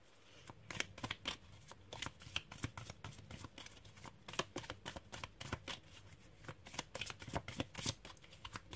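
Playing cards being shuffled for a card reading, a quick run of crisp riffling snaps and flicks, close and fairly quiet, repeating steadily without talk.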